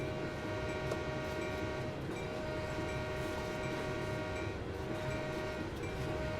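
A big American freight train in the Train Sim World 4 video game, a steady rumbling rail drone with a sustained horn tone laid over it, loud and continuous without speech.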